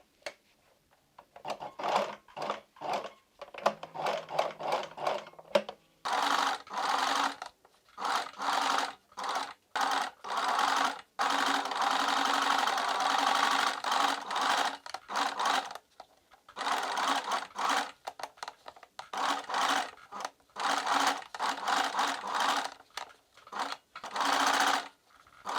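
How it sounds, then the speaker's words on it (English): A sewing machine stitches corset bra cups in repeated bursts, some short and some several seconds long, separated by brief pauses; the whirring is fairly close and alone. "we're going to sew the top part"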